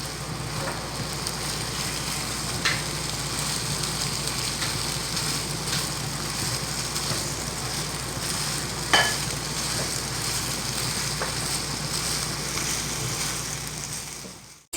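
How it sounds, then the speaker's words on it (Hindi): Tomatoes and vegetables frying in a pan for Singaporean rice give a steady, even sizzle that runs unbroken throughout, with a few faint clicks of a utensil, close and moderately loud, no voices. "अब मैं इसे 2 मिनट फ्राई कर लूँगी"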